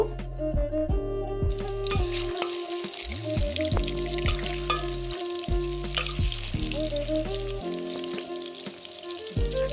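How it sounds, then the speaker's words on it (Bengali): Aar river catfish sizzling and spitting in hot mustard oil, a dense continuous crackle with pops throughout, steady and close, with clattering tones over it and no voices. "তাতে পরিমাণ মতো সরিষা তেল দিয়ে দেবো মাছ ভাজার জন্য। এরপর মাছগুলি আমি ভেজে নেব।"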